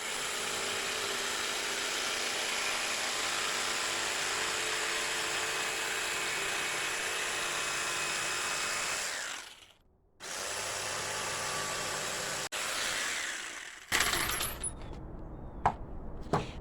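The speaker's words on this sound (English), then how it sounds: "So now I can use my jigsaw and cut along these lines." A jigsaw cuts plywood along marked lines with a loud, continuous buzzing rasp that stops briefly near the ten-second mark, resumes, then breaks into short bursts and clatter at the end.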